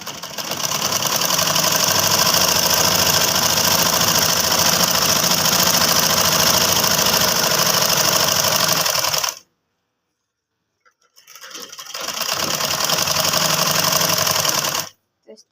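A sewing machine stitches a kurti in two loud, steady whirring runs, the first about nine seconds long, then a brief silence before a second shorter run.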